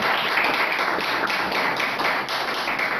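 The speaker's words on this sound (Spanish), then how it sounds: "¿Cuántos le dan un aplauso a Jesucristo?" A church congregation claps together in a dense, continuous round of applause throughout.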